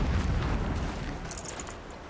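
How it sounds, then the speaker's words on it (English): An explosion in the video game Horizon Zero Dawn opens with a heavy low boom that rolls and fades, followed by a faint scatter of higher debris crackles as the rumble decays. "Explosion. Now it's climbable."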